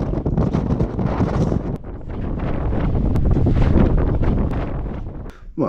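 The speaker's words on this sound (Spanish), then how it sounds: "Ahora que hace un viento de cojones aquí." Strong wind at a castle on Cabrera island, buffeting the microphone in a loud, continuous roar that swells and eases slightly throughout, with no voices.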